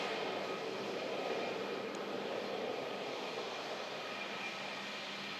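A jet aircraft at Manchester Airport roars from a distance, a steady broad rushing rumble that holds fairly faint and even throughout, with no voices.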